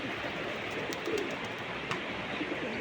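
Pigeons coo softly in a bird-keeping yard, with a few faint, low calls set against a steady background hiss.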